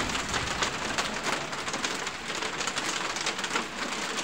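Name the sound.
hailstorm, hail and rain falling in New Zealand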